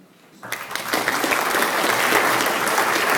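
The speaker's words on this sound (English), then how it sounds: "final round of applause for this year's 2014 Small Business" Audience applause at a 2014 small business awards event, starting abruptly after a brief quiet moment and swelling into loud, sustained clapping from a large crowd.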